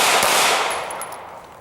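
Shots from a 539 firearm at an outdoor range, a quick burst of sharp reports that trails into fading echo, loud and close.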